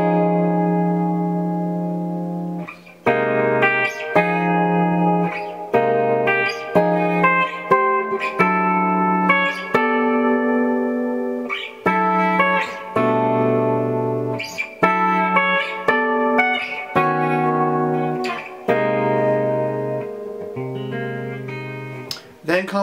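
Electric guitar playing a section of a piece, with sustained legato chords and melody lines that shift harmony steadily through the passage, clean and effects-heavy with reverb and echo, played alone.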